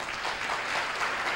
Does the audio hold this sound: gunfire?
no